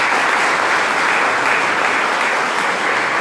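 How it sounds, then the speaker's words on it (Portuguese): Steady applause from an audience at a church ceremony installing a new seminary rectorate in a chapel, dense clapping filling the room continuously without pause and no voices over it. "uma salva de palmas"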